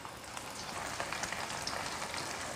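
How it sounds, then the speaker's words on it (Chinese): Pork ribs deep-frying in plant oil over high heat make a quiet, even crackle of fine popping bubbles, continuous and close, with no voices. "全部下锅过后转大火，先把它炸至定型"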